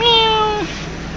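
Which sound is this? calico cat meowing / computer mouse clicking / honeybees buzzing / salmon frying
calico cat meowing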